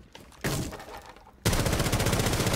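Gunfire in Rainbow Six Siege: a short burst of shots starts, then gives way to loud, dense, rapid automatic fire that runs continuously to the end.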